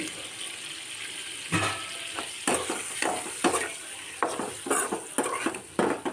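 Boiled eggs fry in oil with salt and turmeric powder, a continuous hissing sizzle punctuated by repeated spatula scrapes and knocks against the pan, close and fairly loud, without speech.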